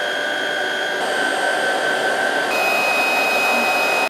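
A Polaris PVCS 6000 cordless vacuum cleaner runs close by with a steady, loud motor whine and a shift in pitch partway through as the mode changes, heard alone without talk.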